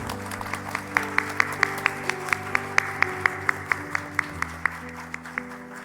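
Hands clap in a steady, even beat, about three claps a second, as a church congregation at a prayer service welcomes the pastor. Sustained keyboard-like tones hum quietly underneath.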